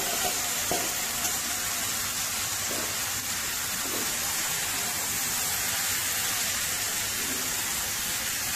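Marinated chicken frying in a pan for a chicken mushroom curry, a steady hissing sizzle up close with a few soft stirring knocks.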